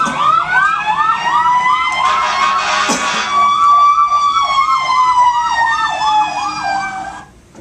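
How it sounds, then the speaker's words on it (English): Emergency vehicle sirens wail loudly and close, cycling through a steady rising-and-falling yelp pattern with a brief horn blast in the middle. "Well, you got to hear the sirens."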